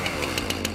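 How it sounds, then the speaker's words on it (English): A chainsaw revs in repeated bursts, loud and close, its buzzing engine rising and falling several times in under a second with no talk. "My chainsaw's ready to rip up some regulations."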